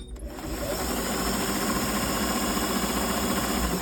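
An old workhorse sewing machine stitching a seam on a woven tote bag hums loudly and continuously up close, with a steady buzzing motor and rapid needle chatter after a brief quiet start.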